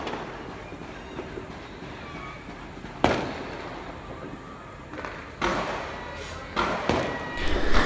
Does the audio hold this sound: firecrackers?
yes